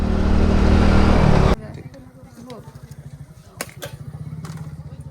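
A 100cc motorcycle on a long road trip through Assam in Northeast India, with a loud close engine drone at first, then a quieter steady pulsing engine hum and road rumble with a few brief knocks.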